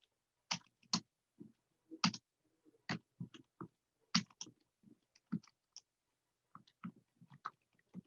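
Keyboard typing in irregular bursts of sharp clicks, a few keystrokes at a time with short pauses between, close and fairly quiet, with no voices.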